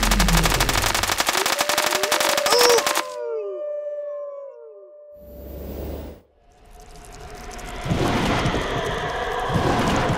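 Rapid automatic gunfire rattles at a shooting range in the video game Kick the Buddy. A dense, loud stream of shots runs for about three seconds, followed by whistling, swooping effects and a later rush of noisy game sound.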